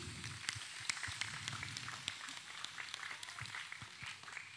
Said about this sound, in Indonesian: saya minta tepuk tangannya untuk Arlang Community